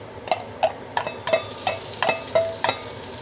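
Garlic sizzles in hot oil for Chinese seafood pan-fried noodles while a utensil scrapes and taps the pan in a steady rhythm, about three strokes per second.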